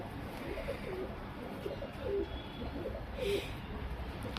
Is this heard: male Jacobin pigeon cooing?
yes